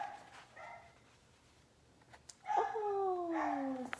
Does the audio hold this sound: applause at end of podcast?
no